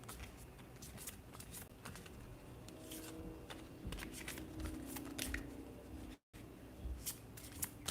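Oracle cards being shuffled in quick, crisp riffles and flutters, close and steady for several seconds with one brief gap near the end.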